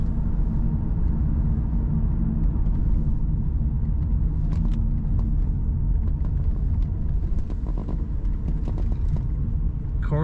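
A 2005 Ford Thunderbird cruises down the road, heard from inside as a steady low engine and road rumble with faint tyre and wind noise and occasional small clicks throughout.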